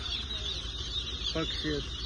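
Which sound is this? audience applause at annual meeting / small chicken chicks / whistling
small chicken chicks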